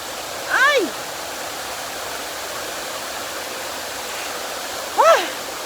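A steady broadband rush of water pours down a mossy waterfall in a natural outdoor setting, loud and continuous throughout, with two brief exclaiming voices breaking in near the start and near the end.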